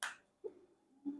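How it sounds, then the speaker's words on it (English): A plastic cover on a Maruti car remote key snaps shut, with a sharp click at the start and two softer, duller clicks after short pauses, all close and alone. "you will hear this noise, and that makes sure that the remote has been properly locked"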